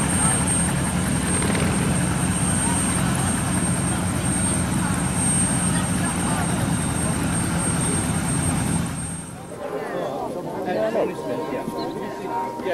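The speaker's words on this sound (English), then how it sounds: "The aircraft is based at Breighton Airfield" A vintage aircraft at the 1999 Breighton airshow drones loud and steady for most of the span, then fades as nearby spectators chat.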